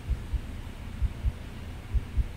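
Heartbeat opening a Kingdom Hearts soundtrack piece: three paired low thumps, lub-dub rhythm, steady and soft over a faint hum, with no other sound.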